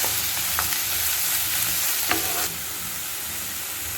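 Three large gooseberries fry in a pan for Indian amla rice, giving a loud, steady sizzle with a few sharp stirring clinks, close and alone; the hiss eases slightly partway through.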